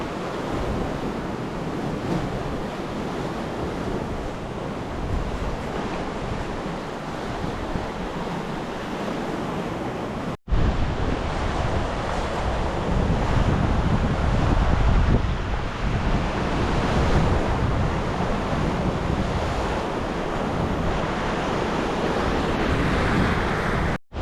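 Strong wind gusts buffet the microphone by the sea near Auckland while waves and surf wash in steadily, a dense continuous roar that swells louder after a brief cut midway.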